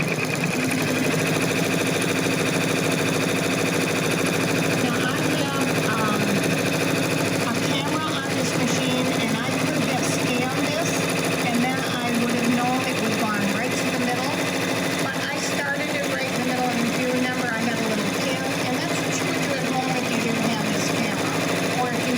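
Brother 10-needle embroidery machine stitching a monogram on a towel, a continuous fast mechanical whirring and clatter at steady volume, with a voice talking over it.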